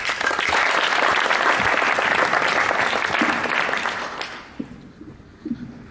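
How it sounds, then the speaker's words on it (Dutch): Loud sustained clapping from a crowd that fades out after about four seconds, leaving a few scattered claps and quiet. "Een heel hartelijk applaus"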